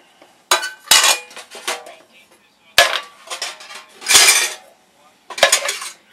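Metal paint cans and lids being handled in a shop, loud close clanks and ringing metallic clatters arriving in separate bursts with quiet pauses between them.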